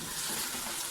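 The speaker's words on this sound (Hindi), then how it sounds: "साथ साथ हिलाते जाएं, चम्मच हिलाते जाएं ताकि वो नीचे ना लगे।" A spoon stirring white chicken korma in a hot pan, the food sizzling and frying in a steady hiss, close and continuous.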